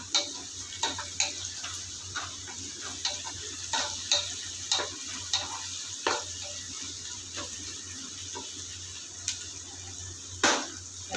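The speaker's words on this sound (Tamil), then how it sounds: "எல்லாம் நல்லா கொஞ்சம் வதங்கட்டும்." Green chilies and mint sautéing in ghee in a pan for coconut-milk ghee rice: a steady soft sizzle broken by regular clicks and taps of stirring, with no talk.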